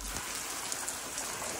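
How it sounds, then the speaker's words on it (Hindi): Heavy rain in Bihar, India, pours steadily in a dense, hissing wash, close and loud, with no voices. "बारिश हो रही है, बारिश बहुत तेज हो रही है"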